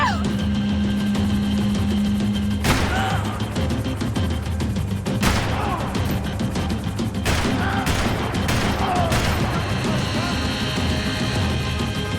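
Gunfire aimed at a helicopter in Max Payne 3, sharp heavy shots cracking at irregular intervals over a constant loud rotor and engine roar.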